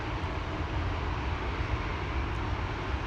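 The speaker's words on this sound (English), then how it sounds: "KLM to Hanover," A KLM Embraer 175 jet lines up for departure at Amsterdam Schiphol, its engines a steady, faint, distant broadband roar with no talk over it.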